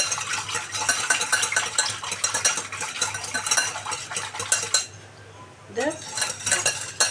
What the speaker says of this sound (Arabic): نفضل نقلب كده لغايه لما السكر يدوب اهو